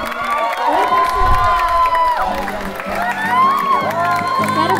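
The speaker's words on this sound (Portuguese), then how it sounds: "Uma salva de palmas!" A lively crowd at a carnival ball cheers, whoops and claps together, with children shouting and excited voices rising over the steady applause.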